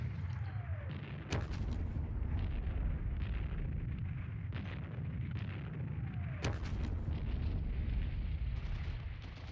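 Artillery fire in the Squad Battles Red Victory wargame, with two sharp, loud booms standing out over a constant low battlefield rumble, one early and one later, plus a fainter thud between them.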